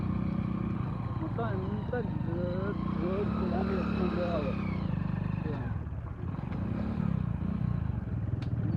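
Motorcycle engine droning and varying in pitch as the bike labours over a rough trekking road toward a hilltop temple, steady and close, with rattling jolts and someone talking over it.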